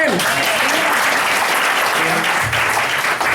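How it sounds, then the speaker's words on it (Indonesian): Loud, dense applause from a seminar audience at a business event fills the room continuously, with voices faintly mixed in beneath the clapping. "Tepuk tangan buat Bapak Ibu sekalian."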